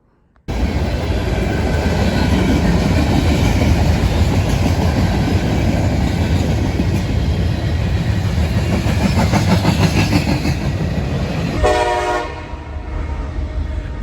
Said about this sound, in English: There's a train on the other side of the